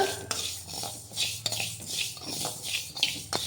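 Fenugreek seeds dry roasting in a pan, stirred with rhythmic metal scraping and rattling, close and clear with no talk.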